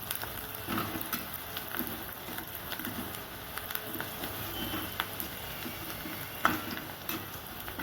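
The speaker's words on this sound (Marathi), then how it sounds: "तर बघा, अशा प्रकारे इथं आपण कांदा परतून घेत आहोत." Onion sautéing in a pan, browning lightly for a pumpkin vegetable dish: a soft, steady sizzle and patter with occasional faint clicks of stirring, quiet and even throughout.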